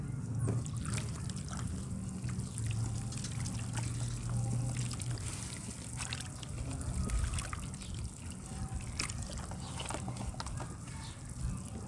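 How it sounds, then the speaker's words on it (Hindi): Water trickling and sloshing as it is poured and stirred into crumbly dirt, a steady wet dribble running throughout with faint movement noise and no talking. "चलो इसमें पानी मिला देती हूँ।"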